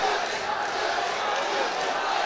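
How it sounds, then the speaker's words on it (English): Crowd cheering and yelling at a kickboxing fight in its final seconds, a loud sustained roar of many voices, with commentary talk running over it. "The crowd really getting behind Ali in the dying seconds of this fight"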